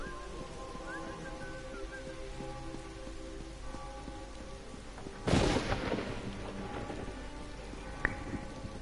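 A crack of thunder rolls out over steady rain in Elder Scrolls Online, a sudden loud boom with a rumbling tail breaking through the constant patter of raindrops.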